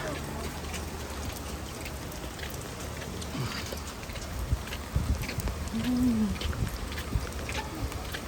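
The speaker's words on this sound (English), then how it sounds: "Comes the rain." Steady rain pours over an outdoor air pavilion at a museum ship site, a constant wash of drops on surfaces, with a few louder thumps and people's voices and movement mixed in.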